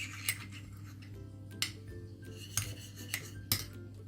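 A spoon clinks repeatedly against a dish while boiling water is measured out spoonful by spoonful for an apple jelly treat, with about five crisp, evenly spaced taps over a low steady hum.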